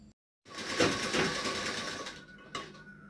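A sewing machine stitches heavy lace onto the curved bottom of a lehenga in a close, steady whirring run of about two seconds that ends with a brief final burst.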